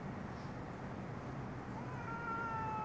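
Cats, one of them white, yowl and meow by a date palm against a steady noisy background, with a rising, drawn-out cry near the end as they fight.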